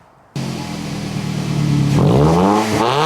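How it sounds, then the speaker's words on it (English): A Toyota Scion tC engine with its stock catalytic converter exhaust idles, then is revved several times. The revs climb in rising sweeps and fall back, loud and close, with no talking. "Alright, so we revved Josh's car"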